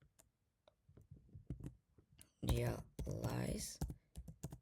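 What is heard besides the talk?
typing code on a computer keyboard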